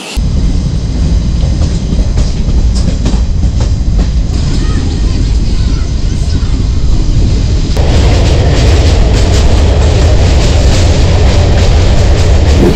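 The Teesta Torsa Express pulls into Bandel station with a heavy, continuous rumble of wheels and carriages, loud and close. The noise grows harsher and brighter partway through, with the broad roar of the station around it.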